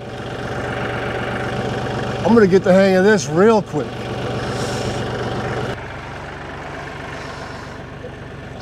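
A tractor on an off-grid property idles with a steady, low engine drone throughout, while someone talks and vocalizes over it partway through.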